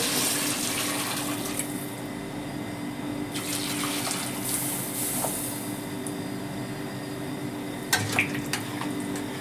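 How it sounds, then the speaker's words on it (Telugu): Water pours steadily into a pot of salted mutton for Kuwaiti machboos, fairly faint, with a low background hum and a few clinks. "వాటర్ పోసుకోవాలి"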